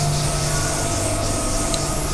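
A Perth suburban train pulls out of the station with a steady rumble and metallic wheel noise, close and continuous, and a faint squeal rises briefly near the end.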